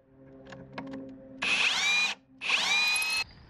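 A power drill/driver backs out the bolt on the heavy-duty locking clamp of a Jacuzzi J-CQ420 in-ground pool cartridge filter, giving two close, loud whirring bursts of under a second each, with a few light knocks before them.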